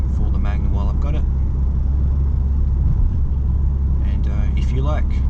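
Mitsubishi Magna driving on the road, with a steady low engine and road drone in the cabin throughout while a person talks over it.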